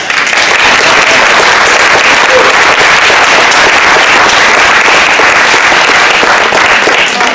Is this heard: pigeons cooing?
no